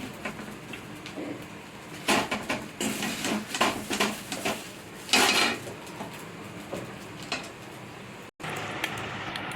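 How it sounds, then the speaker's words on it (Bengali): A utensil lifting food made from semolina and potato out of a wok and arranging it on a plate, scattered clinks and scrapes of metal on cookware at a moderate level, no voices. "কড়া থেকে তুলে নিয়ে থালার মধ্যে সেটিং করে নেব"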